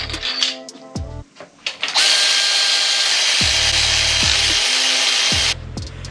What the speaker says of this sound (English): With the crank in and all the cradle bolts all zipped up with the electric ratchet